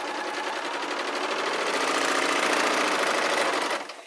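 A sewing machine runs steadily while stitching straight down the short seams of garment facings, giving a continuous, fast, even mechanical whir that stops abruptly near the end.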